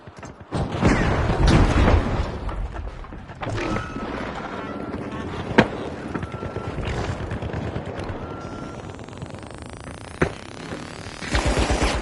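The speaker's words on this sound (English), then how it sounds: "They're opening Vault 2." Mechanical clanks and creaking of a vault opening in the multiplayer shooter The Finals, mixed with scattered gunshots and game sounds; loud thumps at the start and sharp bangs near the middle and end.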